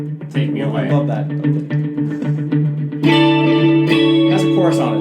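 Electric guitar through a Yamaha THR10 amp with a chorus effect, a run of quick picked notes followed by a full ringing strummed chord, close and loud with no voice.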